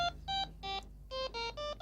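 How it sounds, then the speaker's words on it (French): A mobile phone rings with repeated electronic beeping tones in quick rhythmic bursts, a brief gap between groups, fairly quiet, with no talk over it. "Ton téléphone là sonne, hein."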